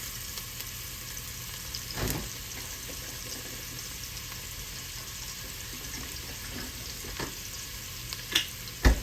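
Onions fry in a pan while a lasagna meat sauce gets started, a faint steady sizzle with a few soft stirring knocks and clinks, the loudest coming near the end.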